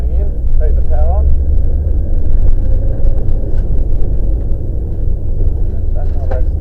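A car engine drones low and steady at close range as the car corners under power, a continuous rumble with a voice talking over it throughout.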